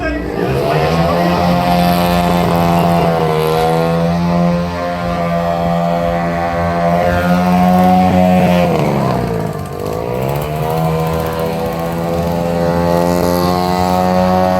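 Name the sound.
motorized vehicles of Jelgava technical school at festival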